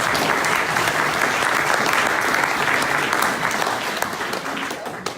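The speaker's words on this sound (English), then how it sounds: "so a big round of applause" Dense applause from a crowd at a charity fundraising event, loud and steady throughout, easing slightly toward the end.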